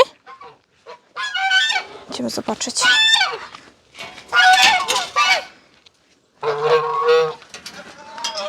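A goose honks several times in loud, harsh bursts close by, with other fowl calling and a person speaking briefly, on a farmyard where a goose sits on eggs.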